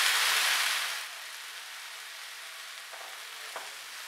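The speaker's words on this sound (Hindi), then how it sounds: "अब ये पालक को पैन में डालेंगे और 1 से 2" Chopped spinach hits a hot pan and sizzles loudly at first, then settles into a steady, softer frying hiss with a couple of faint stirring clicks near the end.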